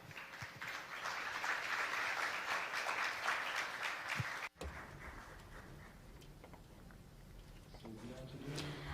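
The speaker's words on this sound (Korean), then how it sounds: "큰 박수 보내주시기 바랍니다" Applause from a forum audience at a space economy conference in Korea greets a lecturer walking on stage, a broad steady wash of clapping that breaks off abruptly midway, followed by quieter room noise and scattered sounds.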